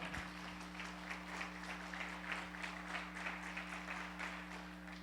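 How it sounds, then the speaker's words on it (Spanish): Church congregation clapping steadily throughout, a dense wash of applause with a constant low electrical hum underneath, moderately loud and continuous. "Usted puede aplaudir el nombre del Señor."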